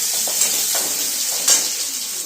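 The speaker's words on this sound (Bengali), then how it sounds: "পেঁয়াজ দিয়ে দেবো, দিয়ে এবার ভেজে নেবো একটু" Onions frying in a pan for egg chops, a loud, dense steady sizzle with a couple of faint stirring scrapes, close and uninterrupted.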